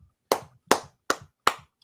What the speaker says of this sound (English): You got to cup the hands like so, and then you just.